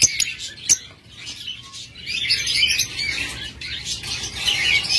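Lutino Fischer's lovebirds chirp and tweet continuously in a cage, a busy chorus of high, overlapping calls with a few sharper close peeps.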